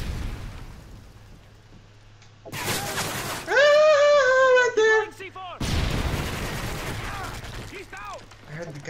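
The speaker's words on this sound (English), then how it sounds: "I heard the gunshot" Bursts of Call of Duty: Modern Warfare 3 gunfire and explosive blasts, loud and close, with a rising electronic whine in the middle and scattered shots trailing off.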